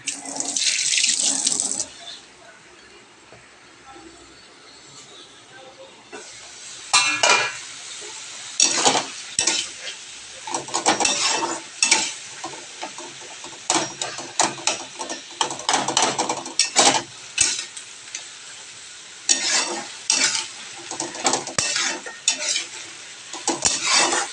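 Taro leaves are stirred and fried in a pan in a home kitchen, with repeated scraping stir strokes and sizzling in bursts. Running water from a tap is heard near the start.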